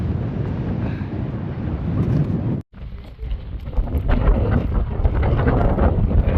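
Steady crackling sizzle of flour-dredged pork chops frying in a hot pan, a constant hiss with small pops throughout.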